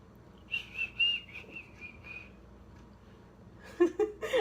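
A sneaky whistle sounds as a thin sustained tone with a few wavering pulses, fairly close, then fades out before a burst of voices and clatter at the end.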